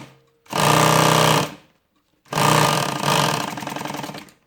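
A sewing machine runs loud and close in two sustained bursts of steady mechanical whirring, the first about a second long and the second longer with slight changes in speed, separated by a brief pause.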